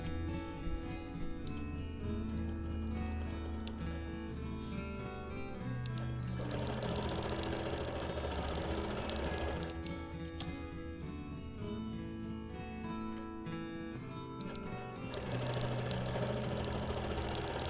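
A domestic sewing machine with a large throat space stitches in bursts during free motion quilting, a rapid mechanical whirring and ticking that starts, stops and restarts several times, close and fairly quiet.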